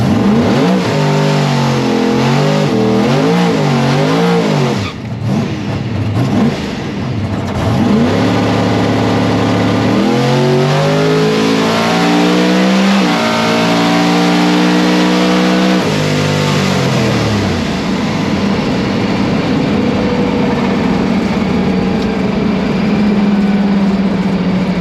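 PDRA Super Street drag race car at a test session makes a pass, its engine screaming loud and close with rapid rising revs and gear changes, then holding a sustained high-pitched roar as it pulls away.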